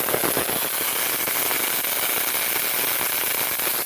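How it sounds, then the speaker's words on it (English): Spark gaps above grounded hairpin wires arc continuously, a dense, steady crackling buzz with rapid irregular snaps and no pauses, fairly loud and close. "See your spark gaps are firing."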